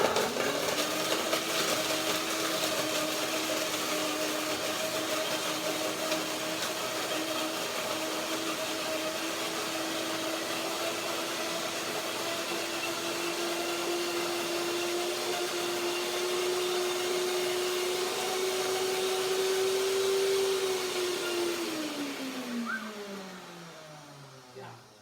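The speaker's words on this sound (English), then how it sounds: "It's a little bit high in the sound of the blender." A blender runs steadily, blending banana and lemon, with a loud whirring motor whose pitch slowly rises, then winds down near the end.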